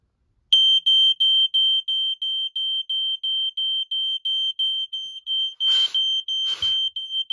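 Smoke detector sounding during a test of an addressable fire alarm system: a loud, piercing electronic tone pulsing in an even rapid series close by, with two brief rustling bursts near the end and no talking.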